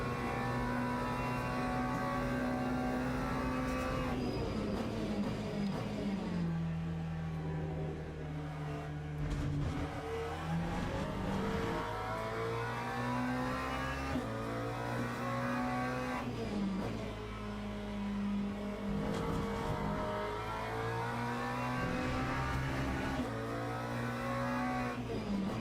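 Race car engine lapping Sebring in the Le Mans Ultimate sim racing game, loud and continuous with rising revs through the gears and repeated downshift dips under braking, no talking over it.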